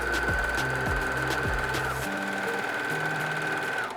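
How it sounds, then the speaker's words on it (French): A sewing machine runs steadily for about four seconds, stitching jersey knit fabric for a beanie with a wide stitch. The close, loud mechanical whir keeps an even rhythm and fades only at the very end. "Après si vous n'en avez pas, vous pouvez utiliser votre machine à coudre."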